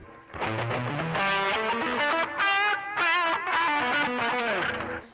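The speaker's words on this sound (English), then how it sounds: "we'll add maybe a little compression and maybe a little distortion" Electric guitar run through compression and distortion on a Mooer L6 MKII six-loop switcher, playing a continuous loud melodic line of sustained, bending overdriven notes and chords with no talking.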